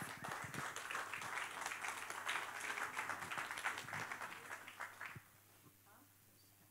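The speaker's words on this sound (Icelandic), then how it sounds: "Já, gefum Karinni gott klapp." Congregation at Smárakirkja church applauding for Karin during a service: a dense patter of many hands clapping, heard from a distance, that fades out abruptly and leaves near silence.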